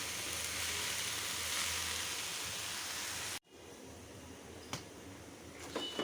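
Leafy greens frying in a hot pan, a steady loud broadband sizzle that cuts off abruptly partway through, leaving a quieter low hiss with a few faint clicks and taps afterward.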